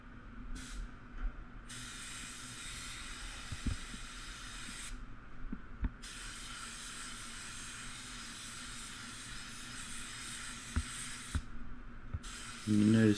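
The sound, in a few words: Starter Jet 5000 WSB spray gun spraying red pearl car paint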